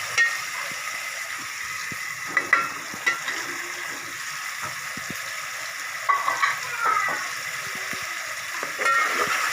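Spices with ajwain fry in hot oil for a fish gravy, a steady soft sizzle with occasional stirring scrapes and brief louder crackles throughout, no talking.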